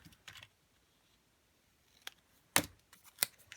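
Scissors trim paper for a Parisian-themed handmade card, a few short sharp snips spaced apart and close by in a quiet room, with no talking.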